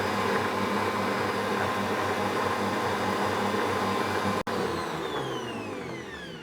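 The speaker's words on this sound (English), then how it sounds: "I'll whisk that until that's fully combined" An electric mixer whisks salt into a caramel cupcake mixture with a loud, steady motor whine and whir. It cuts out for an instant, then resumes and winds down slightly, with no talking.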